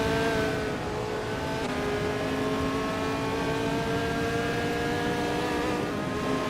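Race cars in a racing video game roar continuously at high speed, steady sustained engine drone with layered tones across the whole stretch, no pauses.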